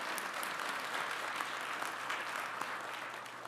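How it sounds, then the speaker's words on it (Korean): An audience applauds at a Korean government public forum on the semiconductor industry, a steady, even wash of many hands clapping, heard fairly faint and continuous throughout with no speech on top. "박수가 나오는 걸 보니까요"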